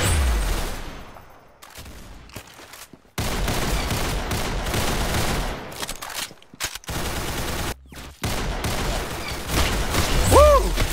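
Rapid gunfire bursts in a shooting game, loud, dense volleys separated by brief silences, with a short voiced sound near the end.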